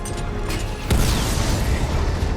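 A drone blows up in the video game Batman: Arkham Knight, a single sharp boom midway followed by a rumbling, crackling tail over steady background noise.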